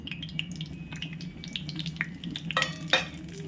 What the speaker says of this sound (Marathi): आता आपण इथे ह्याच्यामध्ये कढई तूप तापलेलं आहे. आपण ह्याच्यामध्ये रवा घालू.